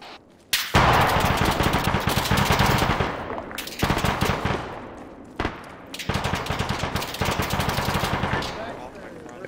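Sustained machine-gun fire in a realistic war video game, aimed at enemy infantry in a trench line: loud, dense rapid bursts, each several seconds long, broken by short pauses.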